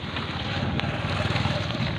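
Strong wind blows across a farm, buffeting the microphone in a constant loud rumbling roar with slight gusty fluctuations.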